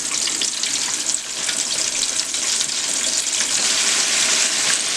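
Pork country ribs deep frying in hot oil, a loud, dense, continuous bubbling hiss that stays steady and close throughout, with no talking.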